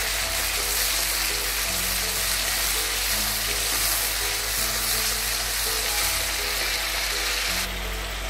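Goat mutton fries with cumin in a hot pan, giving a loud, steady, dense sizzle that hisses on without a break. Nobody speaks.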